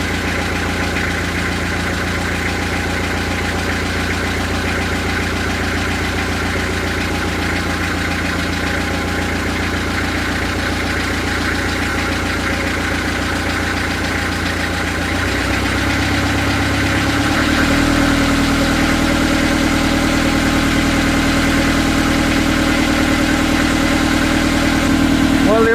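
A narrowboat's diesel engine runs and idles steadily up close, a continuous low rumble with mechanical rattle that shifts to a firmer, smoother tone partway through once oil pressure builds.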